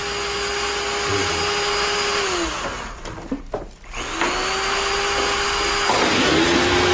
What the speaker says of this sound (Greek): Τι κάνετε, ανοίγετε τρύπες με τρυπάνια?